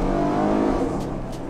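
A Ford Mustang engine pulls in second gear at around 3000 rpm, giving a loud, steady, close mechanical hum that eases slightly toward the end.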